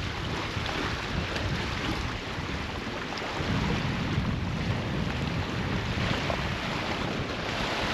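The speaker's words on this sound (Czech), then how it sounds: "Takový zvláštní plavidlo na vodě." A working craft floats on the water of a quarry lake, giving a steady rumbling wash of water and wind noise that holds constant and grows slightly louder midway.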